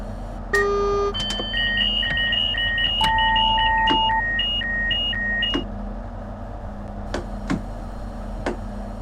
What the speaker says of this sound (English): Oh, stop beeping!